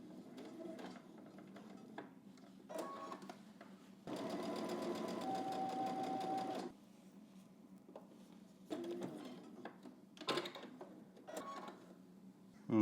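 A domestic sewing machine runs a single steady burst of top stitching for a couple of seconds, close and fairly quiet, framed by small handling clicks and fabric rustles.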